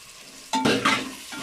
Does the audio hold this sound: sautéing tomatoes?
yes